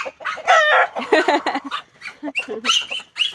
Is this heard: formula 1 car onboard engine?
no